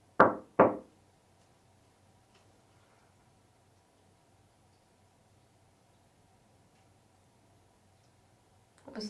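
Two sharp knocks in quick succession inside a quiet room during a candlelit séance, then a long near-silent pause before another knock at the very end.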